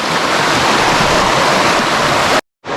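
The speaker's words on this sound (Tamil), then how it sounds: "சரியான ஹிடன் ஃபால்ஸு கைஸ். அடுக்கம் வழி." Water rushing over a small hidden waterfall along the route to Adukkam makes a loud, steady broadband roar recorded up close, cut off abruptly near the end by a moment of silence.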